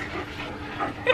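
A dog indoors whimpers in short, thin, high whines close by, a brief plaintive sound ending in a sharper yip.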